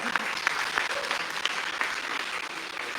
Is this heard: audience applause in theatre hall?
yes